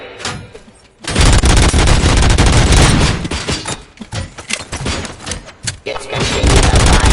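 Sustained gunfire in the video game Robocop: Rogue City, a loud, dense barrage of rapid shots that starts abruptly after a brief pause and keeps up for several seconds with short dips in intensity.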